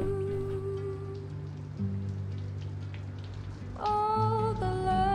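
Steady rain patters throughout in the video game A Memoir Blue, alongside sustained tonal music, with a brighter chime-like melody entering near the end.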